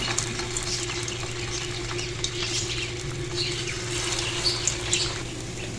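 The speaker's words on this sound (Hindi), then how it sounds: "तो उसके बाद हम इसको फ्राई करते हैं" Bottle gourd kebabs shallow-fry in a small amount of hot oil, giving a steady, even sizzle and crackle over a low hum, with no voices.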